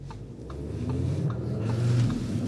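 An Audi RS3 on the road, heard from inside as a steady, low engine drone and rumble, fairly loud and continuous with no voices.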